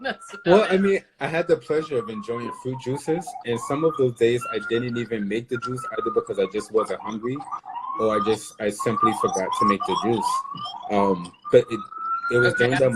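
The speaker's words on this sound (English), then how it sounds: "Sorry about the siren." A police siren passes outside, its falling and rising wail clear but moderate in level beneath a man's continuous close conversational speech.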